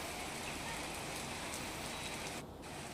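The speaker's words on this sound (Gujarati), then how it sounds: "બગસરા પંથકમાં વરસ્યો વરસાદ।" Steady rain falls over a village in Gujarat's Bagasara area, a continuous dense hiss of drops on surfaces that holds evenly throughout and dips briefly near the end.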